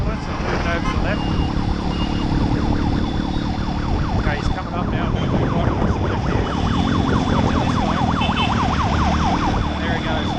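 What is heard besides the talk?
ambulance siren approaching in traffic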